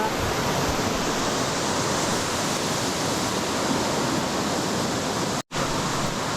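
Chintavanipalem waterfall near Maredumilli roars as a dense, steady rush of falling water close by, unbroken except for a momentary cut near the end, with no voices.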